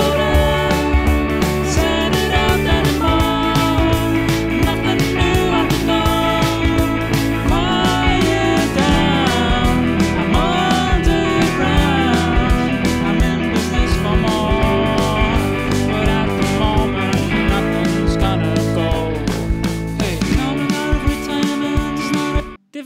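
UJAM Legend virtual drums, swung heavily, play inside a full, dense track mix alongside harmonic instruments, steady and loud for about twenty seconds before stopping abruptly.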